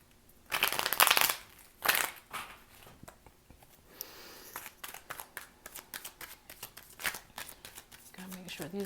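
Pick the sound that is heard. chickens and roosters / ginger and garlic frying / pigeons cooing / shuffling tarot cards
shuffling tarot cards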